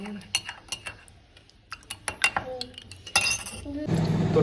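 A spoon clinks against a cup while stirring instant coffee into milk, with a run of sharp metallic taps and scrapes that end in a louder steady rush of sound.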